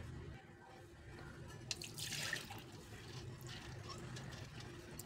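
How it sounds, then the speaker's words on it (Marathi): Water is poured off soaked moong dal, a faint, close trickle and splash with a brief louder gush midway, then steady dribbling. "ह्यामध्ये आता पाणी काढून घ्यायचे।"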